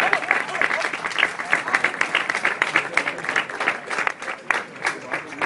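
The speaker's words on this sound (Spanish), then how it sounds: "vamos a aplaudirlo para que se anime." A crowd applauds a police dog during a training demonstration at a national police academy, brisk uneven clapping filling the space throughout, with voices mixed in.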